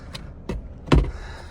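Power windows on a Mazda CX-5 2.2 Skyactiv-D running up and down inside the cabin, giving several short motor whirs, each ending in a soft thud, with the last one loudest and followed by a fading hum.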